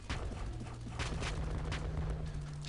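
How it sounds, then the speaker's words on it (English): Bombs from a Bombardier unit exploding in the mobile tower defense game OTTTD, a steady run of booming blasts with sharp bursts at regular intervals over a continuous low rumble. "See those bombs from the Bombardier"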